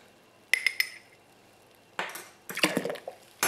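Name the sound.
stirring yeast into elderflower wine must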